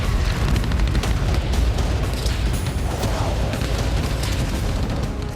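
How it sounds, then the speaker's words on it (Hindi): A missile strike on a building in Kherson, Ukraine, heard as a heavy, continuous roaring rumble of explosion and debris, loud and dense throughout, with no clear gaps. "खेरसोन में रूसी सेना ने X-39 मिसाइल से हमला किया।"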